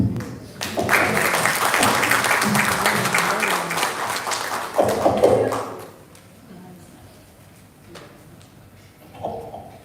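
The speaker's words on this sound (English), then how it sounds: "Give them a round of applause." Crowd applause bursts out after a cultural performance at a Peace Corps volunteers' swearing-in ceremony in Dominica. It stays loud for about five seconds, then fades to scattered clapping with a voice speaking over the room.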